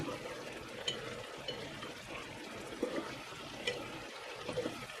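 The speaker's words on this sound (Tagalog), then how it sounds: "Hahaluin ko lang para mapailalim naman yung mga gulay na nasa ibabaw para pantay yung luto." Pinakbet vegetables bubbling in a pot are turned over with a spoon, giving soft wet scrapes and sloshing clinks at irregular intervals over a low simmering hiss.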